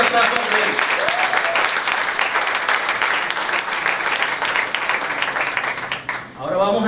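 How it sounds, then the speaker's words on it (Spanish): A church congregation bursts into loud, sustained applause during a Spanish-language sermon, thick continuous clapping with voices mixed in. The applause drops away near the end as talking resumes. "Denle un fuerte aplauso a Él."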